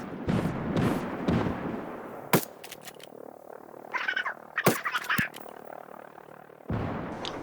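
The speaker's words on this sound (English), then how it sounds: "Did you hear that explosion?" Mortar explosions in Ghost Recon Wildlands, a video game: several sharp, short blasts and bursts scattered through the clip, with a heavy rumbling boom near the start and another at the end.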